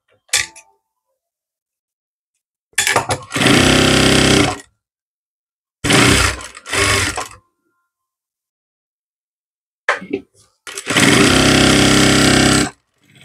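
An electric sewing machine stitches the legs of chudidhar pants in three separate bursts of loud, rapid mechanical whirring, broken by silent pauses, with no talking.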